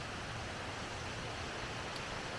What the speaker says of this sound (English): I don't know if you can hear the water in the background, but that's the river that's feeding that waterfall.